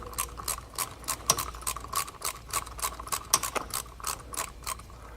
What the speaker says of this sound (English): now I just back that bolt out